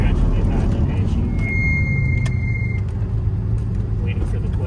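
Low engine growl from a Ferrari Testarossa on the move, a steady rumbling drone from inside the car with a brief high whine partway through and voices talking over it.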